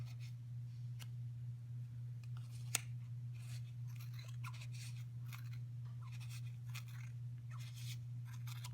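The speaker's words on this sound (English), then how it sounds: "I'm going to take my nice sharp scissors and cut all the fuzzies" Sharp scissors snip through strands of yarn on a pom pom, giving a run of quick, faint crisp cuts, some louder than others, over a steady low electrical hum.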